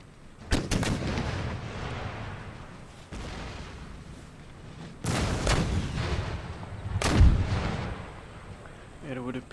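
Artillery cannons fire in the video game Empire: Total War, heavy booming shots landing every second or so with rumbling tails, several loud blasts close together over a constant battle din.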